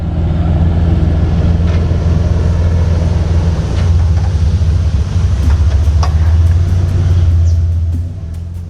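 A 4WD eases down a steep section of the Old Telegraph Track on Cape York, its engine a loud, steady low rumble with wind buffeting the microphone, fading slightly at the end.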